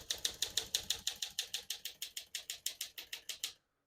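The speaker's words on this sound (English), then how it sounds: "Super smooth and feels light. Feels like a brand new typewriter." Brisk typing on a 1956 Smith-Corona Silent-Super portable typewriter, with about twenty crisp, evenly spaced keystrokes clacking close and clear before stopping abruptly into silence.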